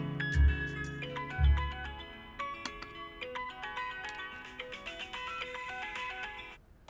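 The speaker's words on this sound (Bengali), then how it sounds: "বাবা তোমার ফোন বাজছে।" A melodic phone ringtone plays, starting with two low thumps and rising into a bright chiming tune, fairly near.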